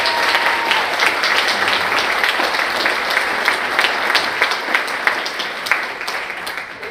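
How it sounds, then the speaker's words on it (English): Sustained applause from the audience at a congressional town hall in Orlando, a dense steady wash of clapping that holds for the whole stretch, with a brief spoken word near the start. "Can we give a round of applause to the staff of Congressman Frost"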